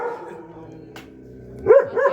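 A frightened dog lets out two sharp barks close by near the end, after a stretch of quiet low background sound.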